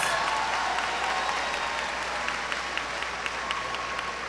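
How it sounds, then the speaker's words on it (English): Steady, loud applause from a large audience at a high school graduation ceremony, sustained throughout with a few sharper claps standing out. "Please give a round of applause"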